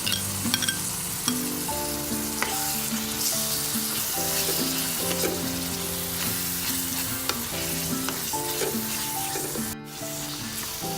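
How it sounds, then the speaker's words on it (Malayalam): Ground masala of chilli, coriander, cumin, garlic and ginger frying with onions in coconut oil for Kerala-style prawn roast, a steady close sizzle under a repeating musical background, with stirring scrapes throughout. "ഇത് കുറച്ച് വെളിച്ചെണ്ണ ഒഴിച്ചിട്ട് വറുത്ത് കൊടുക്കാം"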